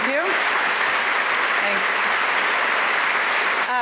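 An audience claps after an author's reading, sustained dense applause filling the whole stretch, with a brief spoken thanks near the start.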